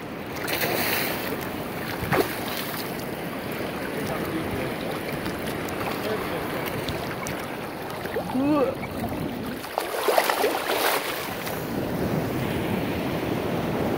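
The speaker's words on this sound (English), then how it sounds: "It's Pretty good surf out today." Ocean waves and surf at a beach on a windy day, a steady broadband wash of breaking water with wind buffeting the microphone, continuous and fairly loud throughout, with brief faint voices.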